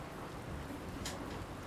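Steady rain falls outside in a suspense roleplay ambience, a soft continuous hiss of drops with a faint brighter patter near the end, heard alone without talk.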